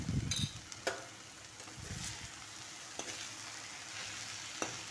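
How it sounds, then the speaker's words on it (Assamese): Taro greens frying in a pan with a spoonful of pepper powder, stirred now and then; a faint, steady sizzle runs under a few soft scrapes and taps of the spoon. "এতিয়া ভালদৰে লৰাই"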